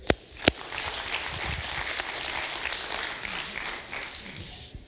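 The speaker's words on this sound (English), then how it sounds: "Clap for Derek, too." Audience applause at a Thanksgiving testimonies church service, opening with a couple of sharp loud claps, then sustained even clapping from a crowd, with faint voices underneath.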